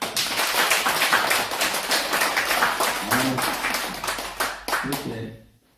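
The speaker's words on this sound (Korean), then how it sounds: "그건 서로에게 박수 한번." A church congregation clapping for one another during a revival prayer service sermon, loud close hand claps with a crisp rhythmic edge, thinning out with brief voices near the end before fading away.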